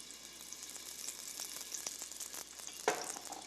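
Bean sprouts stir-fry in oil in a very hot pan, a continuous crackling sizzle with quick stirring scrapes and a sharper clatter near the end, fairly quiet and with no voices.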